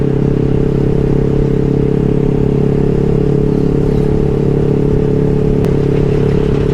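A motorcycle engine holds a loud, steady, droning idle close by for several seconds, with a brief sharper blip near the end and no talk.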